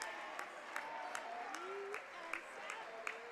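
Scattered applause from a crowd at a high school boys basketball section tournament game, marking a junior player's 1,000th career point, a moderate sustained clapping with sharp claps standing out and a faint voice over it.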